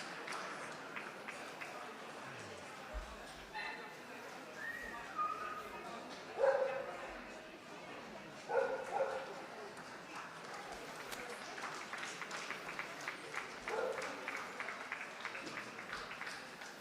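A toy poodle barks in short yips among other dogs in a busy dog show hall, with applause and crowd noise around, and an announcer talking over the scene.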